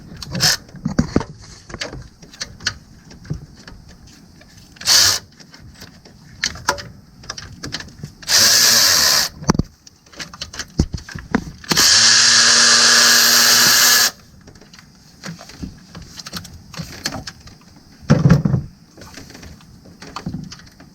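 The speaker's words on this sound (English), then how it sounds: "I'm gonna use my handy dandy Milwaukee ratchet." A Milwaukee cordless ratchet spins in several short bursts while removing a nut on a 2014 GMC Acadia 3.6L during a timing chain job, loud and close, with clicks and handling noises between runs.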